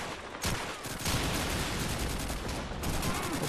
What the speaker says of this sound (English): Shoot the explosive barrel!